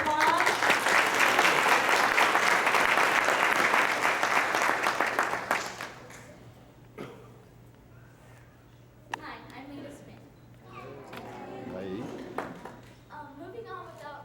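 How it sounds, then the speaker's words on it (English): Audience applause for a fifth grade presentation, a dense burst of clapping for the first few seconds that fades out, followed by someone speaking into a quiet room. "Can we give her a round of applause?"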